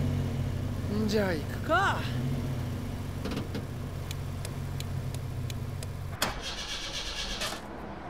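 A car engine in Persona 5 cranks and catches on the first try, then idles steadily at a low rumble while characters talk over it, ending in a sharp click and brighter mechanical noise.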